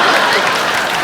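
A studio audience at a comedy talk show claps. The applause is dense, loud and steady, filling the whole moment without a break.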